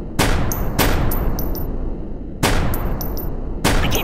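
Gunfire rings out in the video game Kick The Buddy, with four loud, sharp bursts at a steady spacing, each trailing off into a long echoing tail, and no talk.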